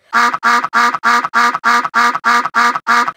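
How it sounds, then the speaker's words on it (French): A duck quacks ten times in a steady, even rhythm, each quack loud and close with a short gap between. "on entend le canard faire coin-coin 10 fois maintenant"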